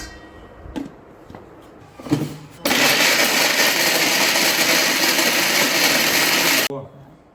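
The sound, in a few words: mixer grinder grinding roti pieces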